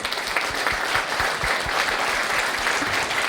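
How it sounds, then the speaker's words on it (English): An audience gives a round of applause, steady, continuous clapping from many hands that holds at an even level throughout, with no talk over it. "Can we have a little round of applause?"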